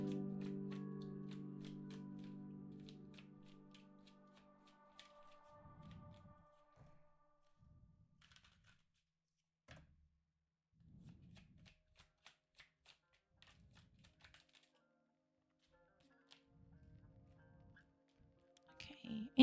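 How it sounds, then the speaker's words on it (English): Tarot cards are shuffled and clumps slip loose from the deck, giving soft, scattered riffles, flutters and small taps in short bursts separated by quiet pauses. The sound is close but faint. "these chunks of cards keep just falling out"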